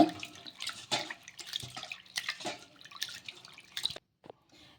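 Water sloshes and swishes in irregular bursts close up as flattened rice is rinsed by hand in a bowl, before trailing off.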